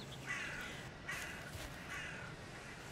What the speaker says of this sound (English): listen for the sound of crows, you can kind of hear what direction they're coming from